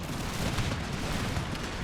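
Cannon fire rumbles through an Empire Total War battle, a dense, continuous barrage of booms blending into a steady low roar without clear gaps.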